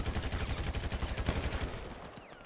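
Rapid automatic gunfire from a teammate in GTA V, a dense, continuous burst of shots rattling steadily for the whole stretch with no talking over it.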